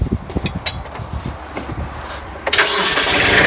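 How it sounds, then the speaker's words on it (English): A Kubota B26 compact tractor's engine cranks with a rough run of short irregular bursts, then catches at once and settles into a loud, steady, close running roar. "I'm going to fire it up and see what we can do with that one."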